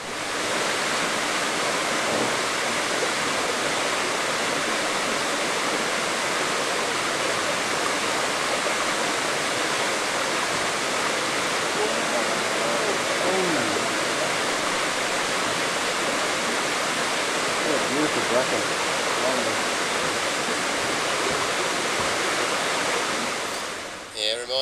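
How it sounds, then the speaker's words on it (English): A jungle waterfall roars in a loud, continuous, even rush of falling water, heard alone and close for the whole stretch before it cuts off abruptly at the end. "Have a listen to this waterfall"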